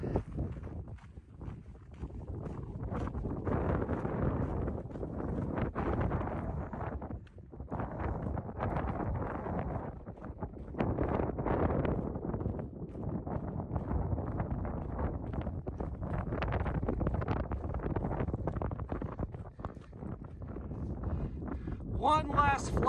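Gusty mountain wind on a dayhike between Loveland and Guanella Pass buffets the microphone in loud, rumbling bursts that rise and fall throughout, with brief lulls between gusts.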